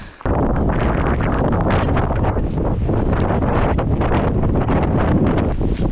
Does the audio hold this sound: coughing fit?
no